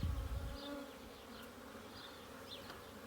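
Honeybees buzz around beehive frames during a hive inspection, a soft, continuous hum with individual bees droning past close by, preceded by a short low thump at the start.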